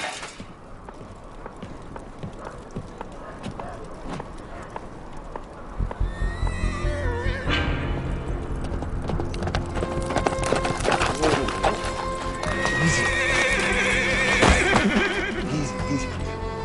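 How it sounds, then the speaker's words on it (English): A horse whinnies loudly, then hooves clip-clop on a hard surface amid rustling and thumps, up close. "That's Slim's horse."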